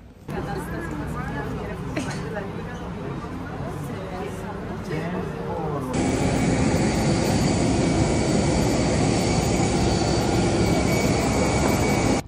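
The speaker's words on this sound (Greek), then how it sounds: "Έχουμε μπει μέσα στο αεροπλάνο." Inside a passenger airplane, a muffled cabin hum runs under a person talking, then the jet engines surge into a loud, dense, steady roar that fills the rest of the clip.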